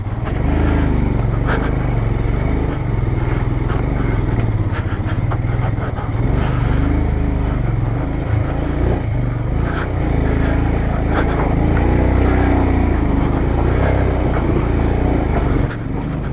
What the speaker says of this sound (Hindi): पाजी का बाइक फंस गया,